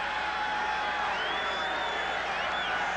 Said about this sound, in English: Crowd really into it